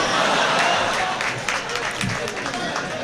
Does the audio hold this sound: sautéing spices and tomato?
no